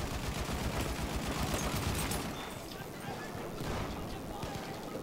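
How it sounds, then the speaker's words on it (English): Rapid grenade explosions and gunfire in Battlefield 1 on the Amiens map, a dense, continuous barrage that is loud for the first two seconds and then eases to a steady rumble, with voices talking over it. "They're spamming the grenades"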